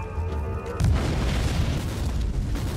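Mines go off in Warhammer 40,000: Inquisitor Martyr, a deep, loud boom landing abruptly and rolling on as a sustained rumbling blast with no talk over it.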